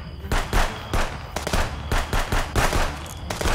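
Rapid bursts of gunfire from the video game Contraband Police crack out close and loud, a string of sharp shots and short volleys spread across the moment.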